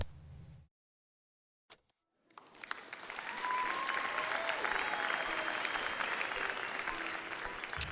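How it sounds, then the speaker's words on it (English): A crowd inside a circus big top in a video game breaks into sustained applause that rises after a short silence and holds steady, clapping with a few cheers mixed in. "Crowds are bustling in the big top, people cheering and children laughing"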